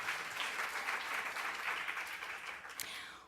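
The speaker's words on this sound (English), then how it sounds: "A round of applause for those that come together to do collective philanthropy." A conference audience claps for people doing collective philanthropy, a fairly faint, steady round of applause lasting a few seconds and fading at the end.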